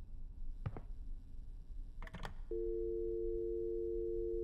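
In a horror video game, a few clicks and handling sounds give way to a continuous steady telephone tone that holds to the end.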